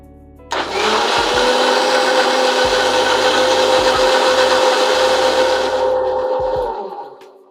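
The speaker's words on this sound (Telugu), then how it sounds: "ఇప్పుడు దీన్ని మొత్తం ఒక బ్లెండర్లో వేసుకున్న తర్వాత మనం మిక్సీ చేసుకోవాలి." A blender grinds a raw mango drink mixture with about a cup of water, a loud steady whirring roar that starts abruptly, runs for about six seconds, then winds down.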